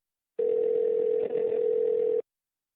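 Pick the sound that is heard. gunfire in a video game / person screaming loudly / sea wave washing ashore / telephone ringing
telephone ringing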